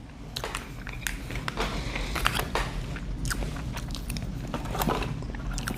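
Someone chews MRE peanut butter close to the microphone, with repeated soft, sticky chewing and crunchy bites in an uneven rhythm and no talking.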